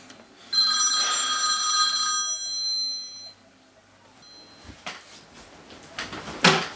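A telephone rings with bright, tonal electronic bursts for a couple of seconds, then the room falls quieter, with handling knocks and a sharp clatter near the end.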